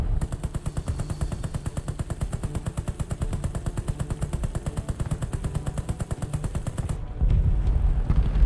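Aircraft gunners fire machine guns in War Thunder during a WW1 event, a fast, steady, loud stream of rattling shots that runs for about seven seconds before cutting off into a low engine drone, with no talking.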